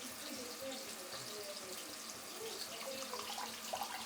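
Kitchen tap water running while mint leaves are washed, a steady close splashing hiss with faint wet shuffling throughout.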